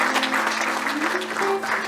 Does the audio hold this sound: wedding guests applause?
yes